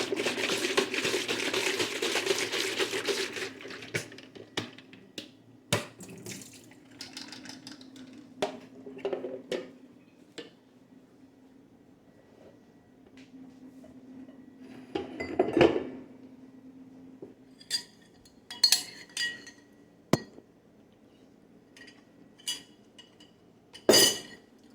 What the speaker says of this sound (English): I guess we can rinse out our Tupperware that we'll be using